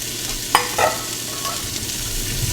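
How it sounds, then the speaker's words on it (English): Frozen peas, carrots and celery are tipped into a pot of beef stew and stirred with onions and garlic, giving a close scrape and clatter, then a soft steady sizzle, with no talk. "Now we're gonna add the frozen peas to this stew."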